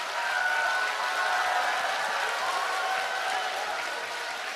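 Audience applause at a lecture hall, a steady even wash of clapping with no individual claps standing out, continuous and fairly far from the microphone for the whole stretch.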